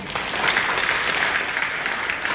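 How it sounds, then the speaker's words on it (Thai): Audience at a company gathering applauds themselves, a dense steady burst of many hands clapping close and loud throughout, with no voices over it. "ปรบมือให้กับตัวเองครับ"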